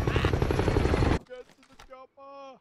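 A Call of Duty Warzone helicopter roars with dense, loud rotor chop for about a second before cutting out, followed by excited shouting voices.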